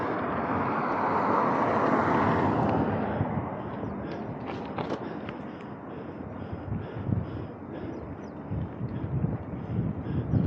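Cold wind buffets the microphone while cycling on a bike commute, producing a steady broadband rush that is strongest in the first few seconds and then eases to a lower, gusty roar with occasional knocks.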